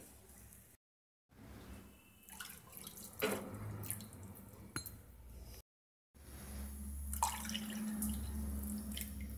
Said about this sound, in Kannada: 3 ಕಪ್ಪು ಹಾಲನ್ನು ಹಾಕ್ಕೊಳ್ಳೋಣ